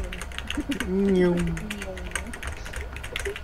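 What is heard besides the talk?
clacking computer keyboard being pressed hard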